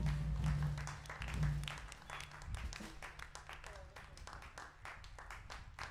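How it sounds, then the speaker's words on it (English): Concert audience applauding at a live big band show: scattered, fairly distant clapping runs throughout, with people talking over it. "Please give yourselves a round of applause, the best audience in Godston"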